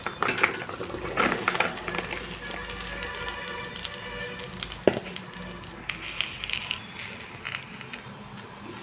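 Okra pieces being stirred in a kadai on a stove, with scraping and clinking of the utensil against the pan in irregular bursts throughout, one sharper knock midway, and faint sizzling underneath.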